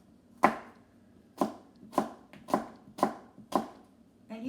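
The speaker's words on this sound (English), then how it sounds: "Now that's the way I cut my apple." Knife slicing through a medium-sized apple, six sharp, evenly spaced cuts with brief crisp snaps, close and clear against a quiet background.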